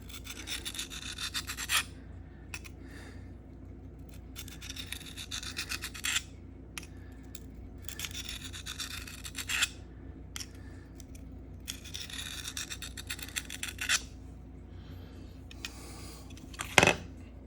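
A knife blade scrapes repeatedly across a Sharpal field sharpener in short bursts of rasping strokes, each group separated by brief pauses, close and fairly quiet, with a sharp tap near the end.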